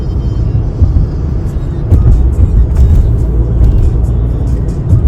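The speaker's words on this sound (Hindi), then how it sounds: "ये है टोरंटो का ट्रैफिक।" Heavy Toronto traffic jam on a highway, a steady low engine rumble and tyre noise from surrounding cars with occasional swells as vehicles move slowly, heard from inside a car.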